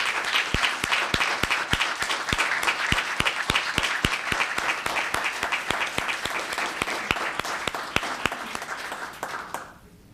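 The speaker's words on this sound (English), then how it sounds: "let's give these fantastic people a round of applause for their accomplishments" A room full of people at a town council meeting applauds: a loud, dense wash of clapping that runs for about ten seconds, with a few sharp, distinct claps standing out, before it fades quickly at the end.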